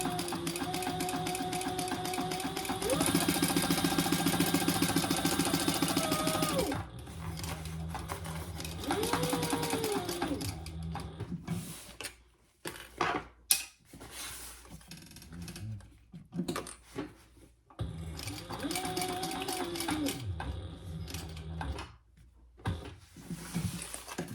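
A sewing machine top stitches a long duffle bag strap, running in steady mechanical bursts with brief pauses and shifts in speed between runs.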